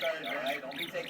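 A pet bird in its cage lets out a harsh, raspy squawk lasting about a second, close and fairly loud.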